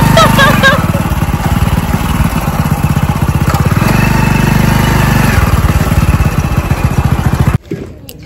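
A motorbike engine thrums loudly and steadily close up while riding, with a slight shift in pitch partway through. Near the end it cuts abruptly to quiet.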